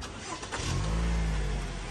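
A 2014 Toyota Harrier engine is started: a brief cranking rattle catches into a low, steady idle hum, heard close from inside the car with no talking.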